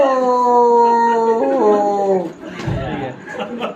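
A person imitates a dog howling with a long, drawn-out, wavering wail that bends downward partway through. The voice is close and loud, and a short burst of laughter or chatter follows at the end.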